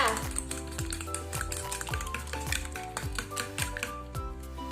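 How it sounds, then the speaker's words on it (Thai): Rapid, regular clinking of a utensil against a bowl while whisking a sauce mixture with chili paste, a brisk rhythmic beating that continues steadily without pause. "ให้เราตีให้ส่วนผสมเข้ากันเลยจ้า"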